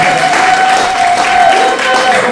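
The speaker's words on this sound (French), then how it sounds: "Est-ce qu'ils peuvent nous entendre applaudir très fort leur arrivée" A crowd applauds loudly to welcome a band, dense clapping and cheering continuing throughout with a sustained tone and voices over the noise.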